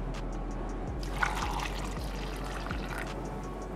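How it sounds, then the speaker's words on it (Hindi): A glass of water poured into a blender over mango, pineapple slices and oats for a smoothie, a soft continuous trickle and splash lasting a few seconds, quiet and close. "नेक्स्ट इसमें डालूंगी मैं 1 गिलास हमारा पानी।"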